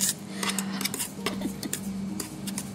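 A utensil clinks and scrapes against a bowl while pineapple cake batter is mixed, irregular light knocks and taps repeating close by, with a low hum underneath and no one speaking.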